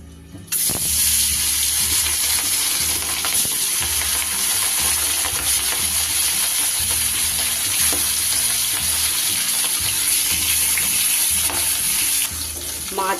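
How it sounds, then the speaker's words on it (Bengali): Hilsa fish pieces fry in hot oil in a wok with a loud, steady sizzle and spatter after a sudden start, low rhythmic hum beneath and a few sharp crackles, ending abruptly, with no talking. "সবার প্রথমে আমি মাছগুলোকে ভালো করে"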